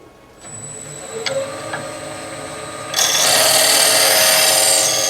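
A skew chisel cuts into a wooden bowl spinning on a lathe. A quiet motor hum with a few light taps gives way to a loud, sustained cutting hiss from about the midpoint, close up, with no voices.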